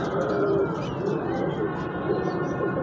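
Expensive fancy pigeons coo softly and continuously at close range, low throaty calls with faint voices in the background.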